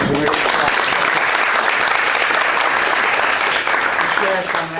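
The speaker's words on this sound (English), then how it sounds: "give him a big round of applause" A conference audience gives a big round of applause for Charlie Mullins OBE: loud, dense, continuous clapping that fills the room and holds steady before easing slightly at the end, with voices mixed in.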